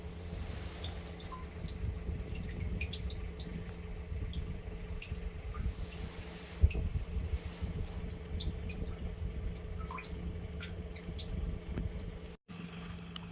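Maple sap dripping steadily from a 5/16 gravity sap line outdoors, faint scattered drips and trickles over a constant low rumble of background noise.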